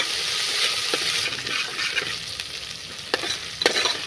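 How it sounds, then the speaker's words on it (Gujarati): A coarse paste of garlic, ginger and green chilli fries in a hot asafoetida tempering, a steady close sizzle broken by a few sharp stirring scrapes. "તો લસણ, આદુ, લીલા મરચાં સરસ સંતળાઈ ગયું છે."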